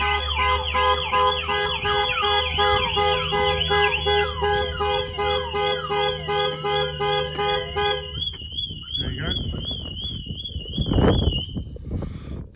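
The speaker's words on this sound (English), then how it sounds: "This alarm has got four sirens on it." A Ford Transit Custom van's Clifford 330 alarm blares with four overlapping electronic sirens and the factory horn, warbling and pulsing tones layered together, loud and close, changing pattern partway through.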